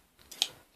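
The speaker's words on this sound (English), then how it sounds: "I've got scissors." Scissors give a single short, crisp snip as they cut into an eBay parcel, close and clear in a quiet room.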